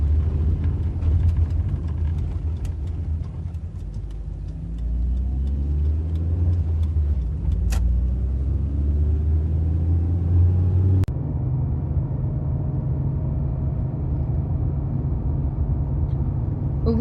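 A car engine rumbles steadily up close, rising in pitch as it pulls away and accelerates, then settles into a smoother cruising drone with no voices.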